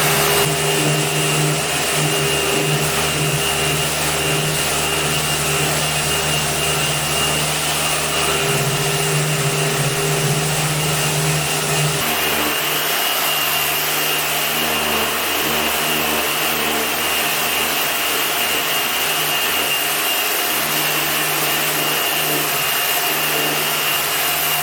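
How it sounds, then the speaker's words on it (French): A Festool random orbital sander works over a pine serving hatch with a vacuum hose attached, giving a steady loud motor whine and rough rubbing hiss that shifts in pitch about halfway through and runs on without talk. "la ponceuse Festool"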